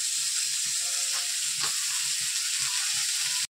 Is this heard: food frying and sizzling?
yes